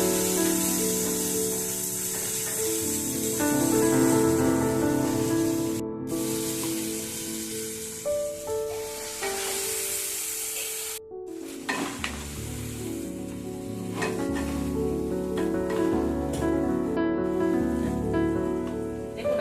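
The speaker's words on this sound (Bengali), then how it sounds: "শিমলা মির্চগুলো আমি দিয়ে দেবো আর টমেটোটাও আমি দিয়ে দেবো দিয়ে আমি একটুখানি এটাকে একটু নেড়ে নেবো" Capsicum and tomato sizzle in a pan while being stirred over a low flame, a close hiss with brief dropouts and scraping spatula strokes that grow busier toward the end.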